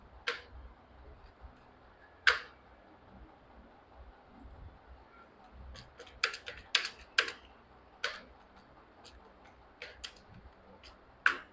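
Soft, sparse keystrokes and clicks on a computer keyboard while writing code, coming in irregular bursts close by against quiet room tone, with no speech.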